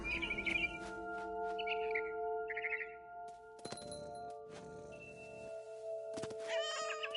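A cat meows a few times in What Remains of Edith Finch amid bright bird chirps and a steady tonal hum, short repeated calls, moderately close.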